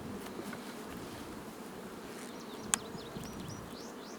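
Honeybees drone around an opened wooden hive box on a ranch, a faint continuous buzz with individual bees zipping past, and one sharp click partway through.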